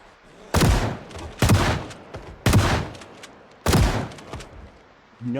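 Four loud gunshots ring out one after another, evenly spaced about a second apart, in the zombie survival game Project Zomboid; each sharp crack trails off before the next.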